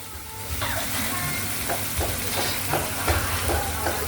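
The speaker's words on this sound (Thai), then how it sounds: "ผัดเผ็ดกบกระทะร้อน" Spicy frog stir-fry tossed in a hot pan at a Thai food stall, with steady loud sizzling and repeated scraping clatters of the pan over a continuous hiss, people talking faintly in the background.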